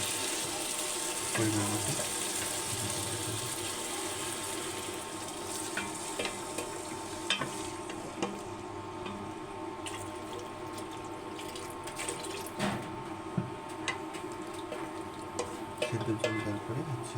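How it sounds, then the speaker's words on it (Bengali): Boiled water is poured into a frying egg curry, making a sustained watery rush over sizzling oil with scattered clinks and stirring sounds. A voice speaks briefly over it. "তারপর ভেজে নেওয়ার পরে হচ্ছে সিদ্ধ জল দিতে হবে, সুন্দর জল"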